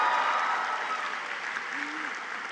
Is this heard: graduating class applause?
yes